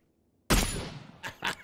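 Video game gunfire: a sudden loud blast after a brief silence, fading out, then two quicker, sharper shots close together; no talking.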